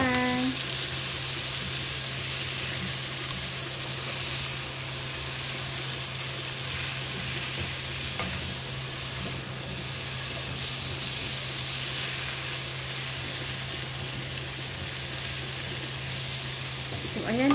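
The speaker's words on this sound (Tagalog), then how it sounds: "ilagay ko yung konting butter. Igisa na natin." Lemongrass sautéing in butter in a pan, a steady close sizzle and fry hiss running unbroken the whole time with faint stirring, no talk over it.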